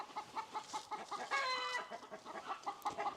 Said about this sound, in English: I think the chickens are jealous that I'm chatting with you and not them.